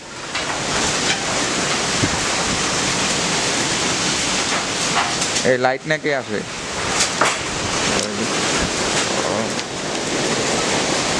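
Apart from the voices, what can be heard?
strong storm wind and rain outside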